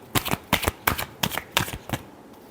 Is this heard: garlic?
no